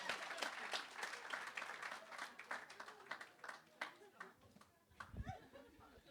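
Crowd at a comedy club claps for the next comedian being introduced, lively uneven clapping that fades toward the end as a voice starts speaking.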